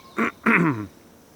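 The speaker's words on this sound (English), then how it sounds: "Between my throat clearing and these birds chirping, I think the audio of this video is gonna be stellar." Birds call outdoors: two short, harsh, quack-like calls close by, the second longer and louder, followed by quiet.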